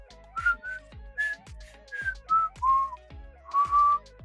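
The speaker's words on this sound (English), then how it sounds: "But yes, I can whistle." A person whistles a short series of clear, fairly loud melodic notes close by, in a halting rhythm of separate pitched phrases with breathy gaps between them.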